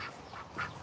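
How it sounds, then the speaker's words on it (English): Farm ducks quacking on an equestrian farm, two or three short nasal quacks, faint and a little distant, with no one talking. "There's my ducks and my chickens."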